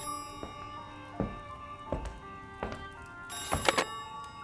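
A telephone rings with several short, tonal bell-like bursts spaced about half a second to a second apart, fairly quiet and alone, ending in a brighter, louder ring.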